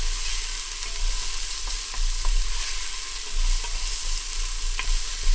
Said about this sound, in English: And then in goes our chopped onion. And we're just going to let that soften up for a few minutes.